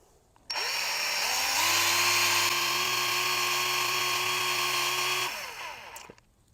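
Whine of a high-speed rotary tool polishing the tip of a paintless dent repair tool for an Audi Q5, spinning up sharply and holding a steady, loud, piercing tone for about five seconds before winding down.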